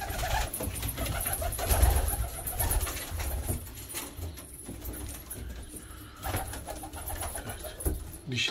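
Pigeons in a loft coo close by in low, throaty, repeated calls over a busy background of rustling and small clinks.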